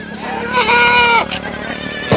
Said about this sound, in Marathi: फक्त एकदम जालदार पट्ट्याची शेळी